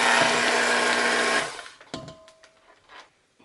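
A stand mixer whirs steadily on low speed through 16 ounces of cream cheese, a loud continuous motor hum for about a second and a half before it cuts off, leaving a few light clinks.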